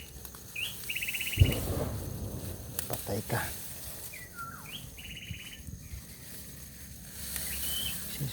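A bird gives short whistled chirps outdoors, several faint repeated calls spread across a quiet background with scattered rustles, a brief thump and a voice speaking briefly.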